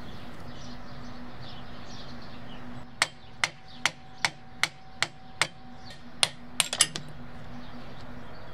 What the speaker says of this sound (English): So I'm just removing the split pin so that can be hammered out of there.